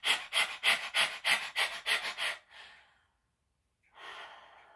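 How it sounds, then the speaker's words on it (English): A person pants rapidly like a dog as a singer's breathing exercise, about eight quick, even breaths close to the mic, then a pause and one long slower exhale. "Starting out panting like a dog"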